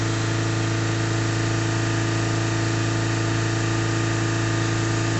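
Vauxhall Opel Insignia 2.0 CDTi diesel engine held at raised revs under pedal, a steady loud drone with constant humming tones and no change across the stretch, close and without speech.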